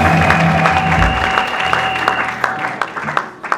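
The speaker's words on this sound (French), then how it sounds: "Acclamons fort pour le Seigneur." A church congregation at a miracle crusade closing service applauds loudly in a dense, sustained wash, with a steady held tone underneath, before breaking into scattered sharper claps near the end.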